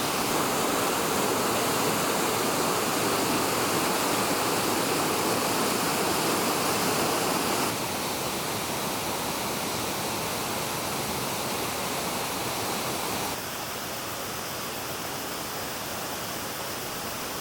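Steady broadband rush of flowing water from jungle streams along the mountainous Sierra Madre coast, continuous and fairly loud throughout with no voices, shifting slightly in level twice as if from nearby to another stretch of stream.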